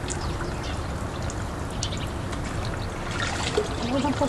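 Water pours and trickles over a dog during its bath, a continuous splashing dribble under a noisy background, with faint brief whines near the end.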